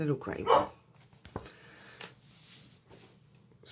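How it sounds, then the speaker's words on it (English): A pet dog barks a few times up close in a home, sharp and loud at the start, followed by quieter scattered sounds, with someone speaking briefly. "Sorry, that's my dog barking."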